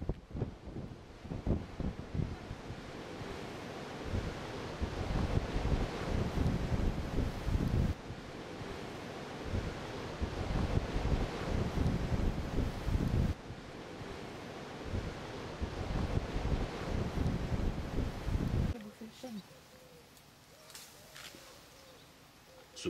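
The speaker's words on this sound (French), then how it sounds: "La caméra bloquée sur les remparts de Saint-Malo n'a pas résisté aux assauts du vent." Strong wind buffets the ramparts of Saint-Malo, roaring loudly against the microphone in long gusty waves, with a brief calmer, quieter stretch at the end.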